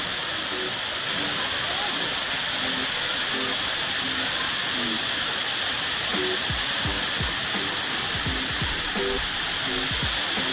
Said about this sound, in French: Je vais vous montrer la cascade.